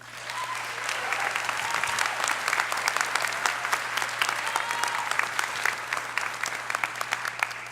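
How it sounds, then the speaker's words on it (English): A crowd at a college commencement ceremony gives steady applause, a continuous patter of many hands at moderate distance, holding evenly for the whole stretch over a faint steady hum. "A nice round of applause for Tanya Lacey."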